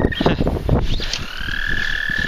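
Frogs croak in dense, overlapping low bursts around shallow water, fairly close and lively, with a thin high tone rising behind them.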